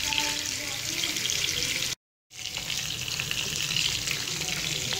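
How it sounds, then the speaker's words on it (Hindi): Fish frying in a pan over a low flame gives a steady, close hiss of oil, broken by one brief silent gap before the sizzle resumes. "ताकि ये दूसरी साइड से भी फ्राई हो जाए।"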